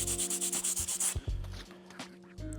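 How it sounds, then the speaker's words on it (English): Sandpaper scrubs back and forth over a scratched floor finish in quick, even close strokes for about a second, followed by quieter scattered rubbing and light handling sounds. "Now we will do bit of sandpaper."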